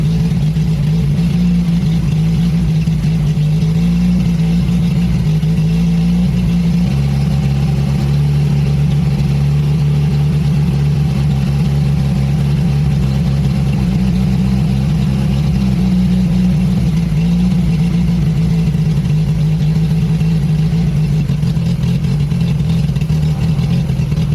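An old Italian camper van engine runs steadily and loudly up close, being run out of fuel, a constant low rumbling drone that holds for the whole stretch with slight shifts in pitch.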